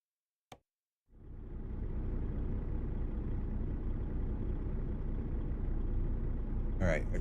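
A heavy haul truck engine in American Truck Simulator, pulling a 9-axle lowboy carrying a rock crusher, runs as a steady, loud low rumble after a brief click and a second of silence.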